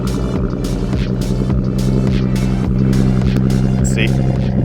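Rebuilt, previously wrecked Audi S5 idling just after starting, a loud, steady engine drone with rhythmic throbbing pulses, heard up close throughout.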